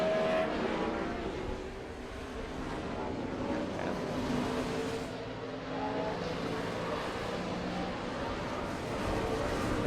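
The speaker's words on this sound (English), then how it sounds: "Now here comes Jimmy Johnson in the 48 car." A NASCAR Cup race car, Jimmie Johnson's number 48, coming in for a pit stop at the 2006 Dodge Save Mart 350 road course race, a steady loud engine drone with a faint voice in the background.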